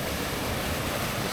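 Ocean waves wash against a rock pool ledge in Noosa, Australia, a close, dense, unbroken roar of surf and churning water.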